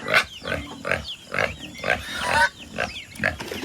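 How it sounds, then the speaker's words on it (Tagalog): Two pigs on a farm grunt close by in a quick, rhythmic series of snorting oinks, about two each second, with no talk over them. "Ayan o, may dalawa tayong baboy dyan."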